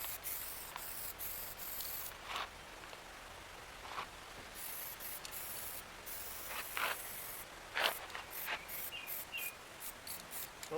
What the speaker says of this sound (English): A little careful spraying, trying not to get my tail light.